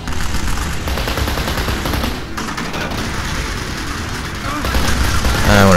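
Sustained automatic fire from an MP5 submachine gun in the Kane and Lynch video game, dense rapid bursts running nearly the whole time and growing louder toward the end, with no talk over it.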